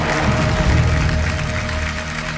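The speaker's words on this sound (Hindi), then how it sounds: "एक बार जोरदार तालियां हो जाए पूरी टीम के लिए" A crowd at a Mumbai police tribute event claps for the team, a loud, dense, continuous roar of applause heard up close throughout.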